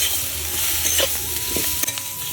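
Bitter gourd frying with turmeric and green chillies, stirred in a pan: a steady sizzle with scraping strokes of the spoon, loud and close, with no talk.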